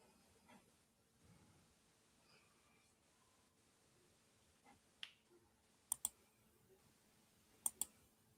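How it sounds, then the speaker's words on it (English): Computer mouse clicks come as sharp, quick double taps, two pairs near the end, faint and close over a quiet background with low murmurs. "We heard the mouse clicking."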